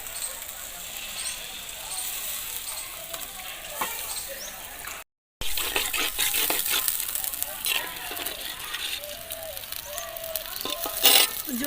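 Water poured into a hot pan while cooking potoler dorma, a stuffed pointed gourd curry, gives a continuous sizzling hiss with crackles and stirring scrapes, close and steady, broken by a brief dropout midway.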